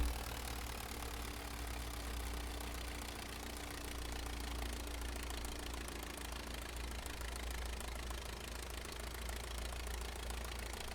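The engine of a Curtiss Jenny biplane in Microsoft Flight Simulator 2020 drones steadily at reduced throttle, a constant low, rough rumble with faint knocking texture and no talk.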